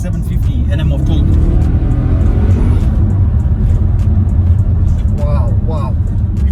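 Audi RS6 with roughly 750 hp and 1100 Nm pulling hard, a loud, steady low engine roar heard from inside the cabin, with people talking over it.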